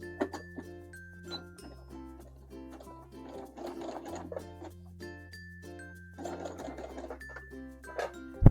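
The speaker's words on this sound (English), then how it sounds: "we are going to sew the side seams together." A sewing machine stitches the side seams of a stretchy knit shirt in steady whirring runs. A low motor hum sits under rapid needle ticking, with a short pause and a restart partway through.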